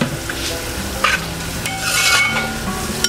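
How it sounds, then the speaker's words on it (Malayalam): Beef sizzles in a pan with a little added water while being stirred, a close, loud steady fry with bursts of scraping and spluttering, part of a Kerala kappa biryani. "ഇനി ബീഫ് വേവാൻ കുറച്ച് വെള്ളവും കൂടെ ഒഴിച്ച് കൊടുക്കാം."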